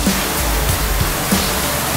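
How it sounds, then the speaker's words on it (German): Water floods into a basement as a constant loud rushing roar, broadband and unbroken, with a few faint knocks beneath it. "Okay, also das Wasser läuft."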